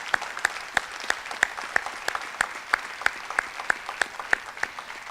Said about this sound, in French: Une bonne main d'applaudissements pour le comité organisateur.